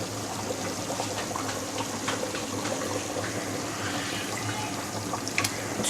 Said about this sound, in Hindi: ये हम जो आटे वाला पानी है वो हम इसके अंदर ऐड कर देंगे।